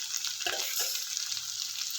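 Food frying in oil in a pan gives a steady, close hiss of sizzling across the whole moment, with a couple of soft stirring scrapes near the start.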